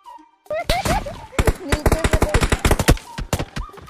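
Rapid bursts of video game gunfire crack out in a dense, loud run of shots, with a voice talking briefly underneath.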